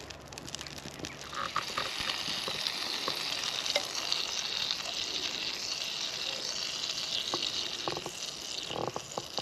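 Butter sizzles and browns in a pan over an alcohol stove outdoors on a frosty day, a steady close crackling hiss running throughout with scattered small pops.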